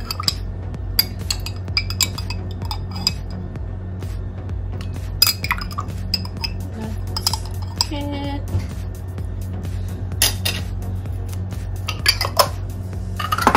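Spoon clinks and scrapes against bowls as coconut gel for halo-halo is portioned out, a few sharp taps and soft wet squishes over a steady low background hum, with no talking.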